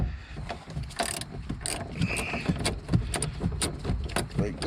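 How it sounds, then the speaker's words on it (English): Repeated ratcheting clicks from an 8mm socket wrench loosening a taillight stud on a Nissan Altima, sharp metallic ticks coming in irregular bursts at close range, fairly quiet. "Grab your 8mm socket or wrench, either one will be fine"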